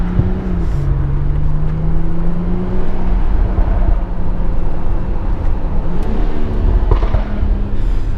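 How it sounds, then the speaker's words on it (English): A 2018 BMW X3 M40i crossover accelerating, its exhaust a loud, close engine drone whose pitch climbs, drops at a shift and climbs again, continuous with no talking. "Wonder if I can give you guys some exhaust right here."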